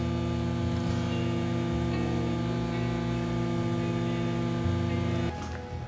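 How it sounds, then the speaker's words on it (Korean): A skin vacuum packaging machine seals hairtail fish in a special tray, giving a steady, moderate electric motor hum that shifts near the end. "여기에 갈치를 넣고 진공포장을 해보겠습니다."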